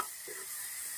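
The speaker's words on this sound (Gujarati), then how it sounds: "તમે જોઈ શકો છો ડુંગળી સરસ મજાની શેકાય છે." Onions sizzle steadily in a pan with turmeric for Rajasthani Rajwadi sabji, a soft, even hiss over low heat with a faint stir near the start, no talking.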